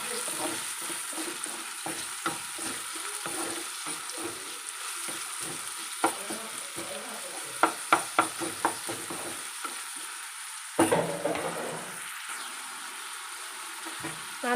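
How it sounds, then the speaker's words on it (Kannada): Tomato and onion frying in a pan for a potato and ivy gourd stir-fry, a constant sizzle broken by sharp scraping and clacking stirring strokes, close and fairly loud with no talking. "ನಾನು ಟೊಮೆಟೊ ಈರುಳ್ಳಿ ಫುಲ್ ಫ್ರೈ ಮಾಡ್ಕೊಳ್ತೇನೆ"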